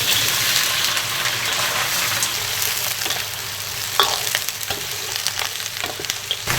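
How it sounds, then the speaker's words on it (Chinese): Beef steak, meant for a pickled-cabbage hotpot, hits hot oil in a pot and fries with a loud, dense continuous sizzle, broken by a few stirring clatters and scrapes, no voices. "牛排下锅，爆一下"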